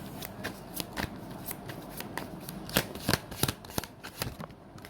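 Tarot cards are shuffled by hand in a quiet room, with a string of crisp riffling and flicking bursts that grow busier toward the middle and then taper off.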